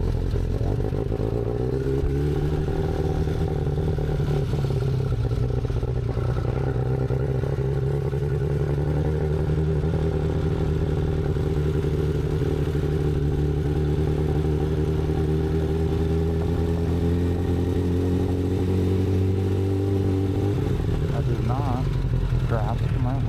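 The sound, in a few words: motorcycle engine running during a ride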